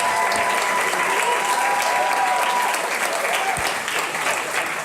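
A full audience applauds at a startup pitch awards event, loud and continuous clapping that fills the whole stretch, with a brief thump partway through and no clear talk.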